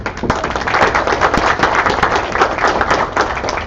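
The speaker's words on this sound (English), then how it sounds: "let's give a round of applause for them" Workshop attendees at a conference session in Dublin give loud, dense applause for event sponsors, with sharp individual claps popping out of a continuous close roar.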